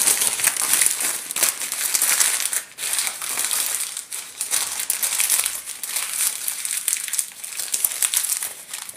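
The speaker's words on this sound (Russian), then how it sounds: "Берем в каждую руку по листу бумаги и начинаем разминать." Sheets of paper are crumpled by hand, one sheet in each hand, into balls, a continuous close crinkling and crushing that runs for several seconds with only short pauses.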